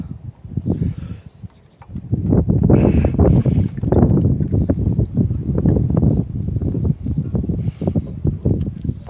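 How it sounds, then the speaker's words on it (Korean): Outdoor wind buffets the microphone in a pepper field with a loud, gusty low rumble that rises and falls throughout and briefly drops away near the start. "바람이 이쪽에서 부네."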